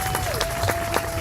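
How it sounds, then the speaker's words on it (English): Brief burst of crowd applause at a groundbreaking ceremony for the Queens Botanical Garden education center, with several sharp claps standing out over a steady background and a tonal hum running underneath. "Let's give him a round of applause"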